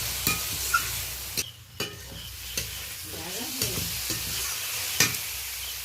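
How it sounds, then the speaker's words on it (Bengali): Onion and tomato fry in a pan for a prawn malai curry, a low steady sizzle punctuated by several sharp clicks and scrapes of a utensil being stirred, close and moderately quiet, with no speech. "ভালোভাবে নেড়ে নিচ্ছি যাতে পেঁয়াজটা তাড়াতাড়ি টমেটোটা গলে ভাজা ভাজা হয়ে যায়।"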